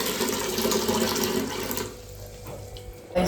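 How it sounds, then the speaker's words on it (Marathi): Dirty water gushes from a household tap into a container, a steady close rushing hiss that cuts off partway through, leaving quieter room sounds. "हे बघा पाणी इथं भरायला लावलंय"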